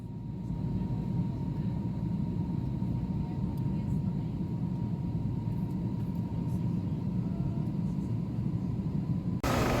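Steady low roar of airliner engines heard from inside the cabin, a constant broadband rumble with a faint steady hum, continuous and even throughout.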